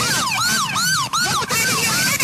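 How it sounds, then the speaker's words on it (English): Loud, wailing emergency vehicle siren sweeping up and down repeatedly with a fast, steady rhythm, close by and dominating the scene over background road noise. "that siren was like, Awful."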